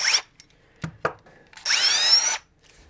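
A Fein 12-volt 4-speed cordless drill gives a few short whirring bursts, then runs in one longer high-pitched whine whose pitch rises as it speeds up before it cuts off, close and loud.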